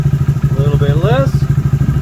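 A Honda Grom 125 motorcycle engine idling close by, with a steady, even low pulse throughout and a brief rising whine in the middle.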